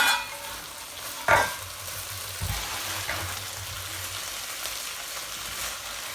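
A dry spring onion and prawn vegetable dish cooking over a slow flame, giving a soft steady sizzle with a couple of brief stirring scrapes and clinks near the start, no voices.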